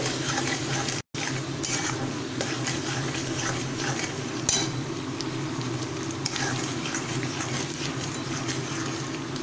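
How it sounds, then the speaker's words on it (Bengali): Masala paste for a paneer dish being sautéed and stirred in a pan, a continuous close sizzle with scraping and clinks of utensil on metal, briefly cut out near the start, no speech. "মশলাটাকে আবার একটু কষিয়ে নিচ্ছি।"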